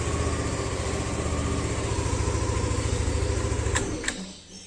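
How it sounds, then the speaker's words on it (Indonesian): A Yamaha NMAX scooter with a keyless system runs close by, a steady engine hum that ends in a couple of clicks as it cuts out. "Jadi kalau on ini bisa di starter."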